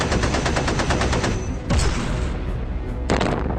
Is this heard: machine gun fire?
yes